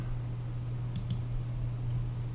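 Two quick, faint computer mouse clicks a moment apart, a right-click made over a steady low electrical hum in a quiet room.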